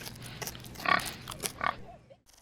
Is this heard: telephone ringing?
no